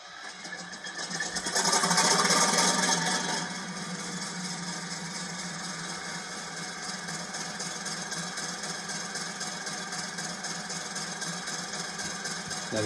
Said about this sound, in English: I might as well get the engine started up